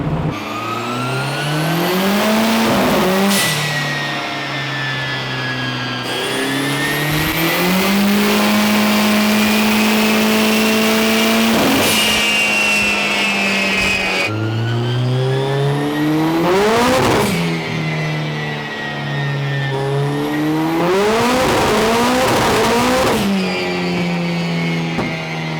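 A turbocharged Honda B-series engine in an EG Civic revs hard on a dyno, climbing and falling through repeated loud, close pulls with whining harmonics and no talk.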